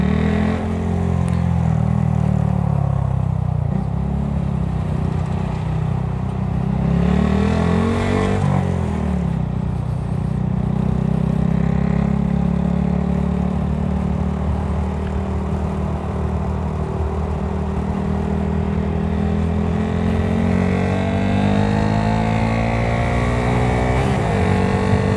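A Honda Grom motorcycle engine drones steadily while being ridden, a continuous low hum with a brief rise in revs near the middle, close and loud throughout with no talk.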